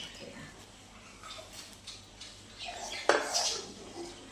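A metal spoon stirs kheer in a cooking pot, soft scraping and light clinks building to a sharper clank near the end, faint and close in a quiet kitchen.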